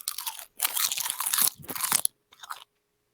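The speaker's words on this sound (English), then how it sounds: "That is some crunch." Loud, dry crunching of a bug being chewed close to the mouth, in bursts of brittle crackling bites with short pauses between, ending in a few softer chews.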